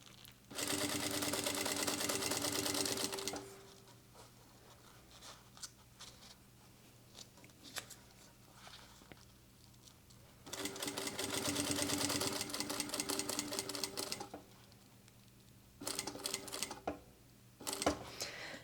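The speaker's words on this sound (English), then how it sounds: "as we stitch, we're going to feed the ribbon over top of the seams that we just created" A sewing machine stitches ribbon over the seams of a packing cube bag, running in two long steady bursts with a few short stop-start runs and quieter handling between them, up close.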